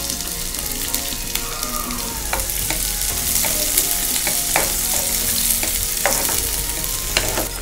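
Sliced onions for a gravy sizzle loudly in a hot pan, with sharp clinks and scrapes from a spoon stirring them at irregular intervals over the continuous frying hiss.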